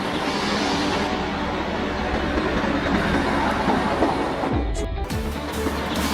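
Track lift vehicle, a switch-leveling rail maintenance train, rolling along the rails nearby with a loud steady rumble and clatter that changes briefly near the end, with no talk.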